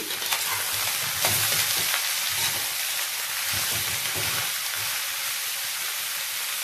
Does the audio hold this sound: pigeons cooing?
no